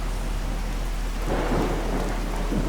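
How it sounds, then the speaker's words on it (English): Heavy rain pouring through the ceiling of a ruined building in the video game Fallout 4, a steady hiss of downpour with low thunder-like rumbles swelling partway through, with no one talking. "the rain just keeps pouring through the ceiling"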